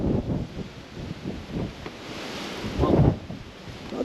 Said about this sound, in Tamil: காற்று அதிகமாக இருக்குது, காற்று ஜாஸ்தியாக இருக்குது